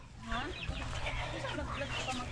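Chicken clucking in a home setting, short repeated clucks mixed with background chatter and people talking nearby throughout.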